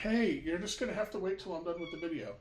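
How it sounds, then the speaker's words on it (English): A house cat meows repeatedly close to the microphone during a G scale model railroad review, its calls overlapping a man's speech. "Sorry about the cat."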